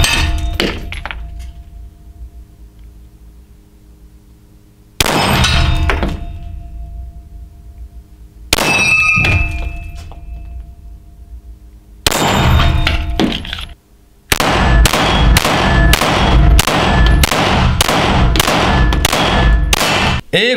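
ZEV Technologies OZ9 pistol fired at about ten metres: three loud separate shots with ringing decay, then a rapid sustained string of about a dozen closely spaced reports.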